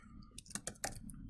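Quiet keystrokes on a computer keyboard while writing a first Java program in the NetBeans editor, a short burst of about five close, soft clicks.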